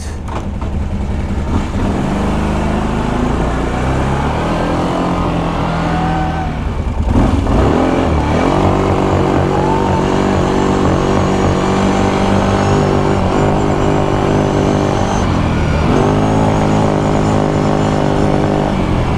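A Kawasaki Brute Force 750 ATV engine running loud and close, a steady rough drone with uneven stuttering and pops, rising in pitch as the throttle is worked midway.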